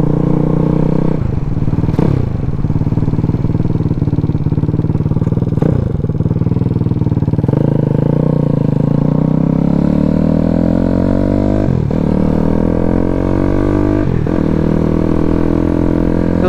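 A Daytona 212cc single-cylinder engine on a Grom clone minibike runs loud and close while being ridden, revving up repeatedly with rising pitch between brief drops for shifts or throttle lifts.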